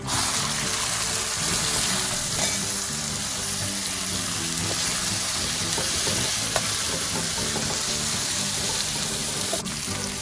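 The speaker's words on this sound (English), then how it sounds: "Seasonings have started to splutter. This is a good time to add the custard beans." Cluster beans hit hot oil with spluttering seasonings, producing a loud, continuous sizzle and crackle of frying that stays steady throughout with no talk.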